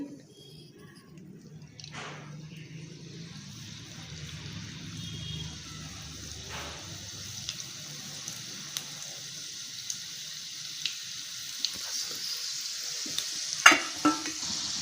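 Sweet modak dumplings fry in hot oil with a soft, faint hiss, and occasional light clinks and taps rise toward the end.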